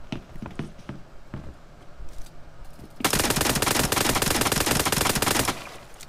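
Rapid automatic fire from the P18 pistol in PUBG Mobile: a few scattered shots, then a loud, dense sustained burst of about two and a half seconds that cuts off sharply.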